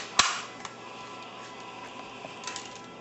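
A rifle's dust cover snapping back into place during reassembly, one sharp close metallic click followed by fainter small clicks and handling noises in a quiet room.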